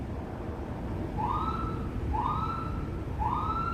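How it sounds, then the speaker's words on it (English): Three rising wails from a police siren repeat at a steady pace, loud and fairly close, over a constant rumble of street noise at night in St Paul. "They're using the loudspeaker and some siren action."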